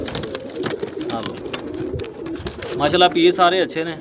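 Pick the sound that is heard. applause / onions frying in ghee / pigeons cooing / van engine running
pigeons cooing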